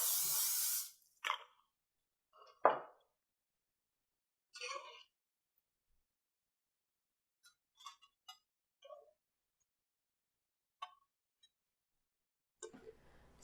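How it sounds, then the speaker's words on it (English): Nonstick cooking spray hisses onto a sheet pan in one steady burst of about a second, then scattered soft clinks and taps of cookware follow in near silence. "I'm going to put some nonstick spray here"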